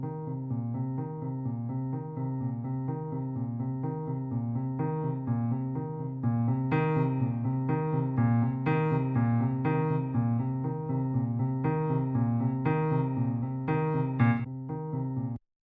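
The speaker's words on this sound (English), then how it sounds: "let's first of all take a listen to the Pianoverse part with the 5 instances" A piano motive from the IK Multimedia Pianoverse plugin, a steady flow of melodic notes with occasional brighter accents, clean and close for about fifteen seconds before stopping abruptly.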